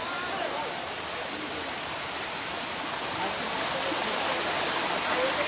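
Water from the upper section of Shain Gong waterfall rushes in a steady, loud broadband roar that stays constant throughout, with no break or change in intensity.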